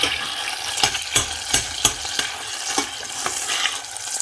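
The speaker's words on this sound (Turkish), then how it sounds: "Salçamızı ilave edip kavuruyoruz." Tomato paste sautés in melted butter for a kebab sauce, sizzling steadily up close while a utensil scrapes and taps the pan in a loose, repeated rhythm, with no voices.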